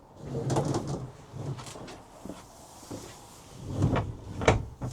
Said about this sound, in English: slide this screen across all the way